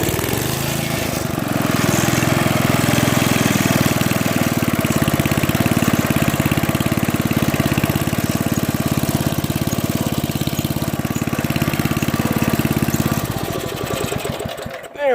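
A small engine with the choke applied sputters, starts and settles into a steady, loud mid-pitched run for several seconds before it cuts out near the end.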